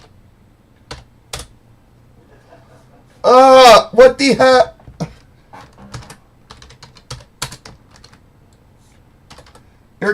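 Rapid clacks of fingers on a computer keyboard come in short bursts amid quieter scattered taps, with a loud spoken outburst in the middle.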